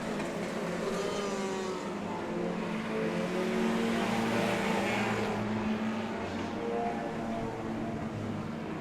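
Mini stock race cars lapping an ice track at a winter speedway event, their engines blending into a steady, loud roar that holds for the whole stretch, with a slight rise in intensity midway.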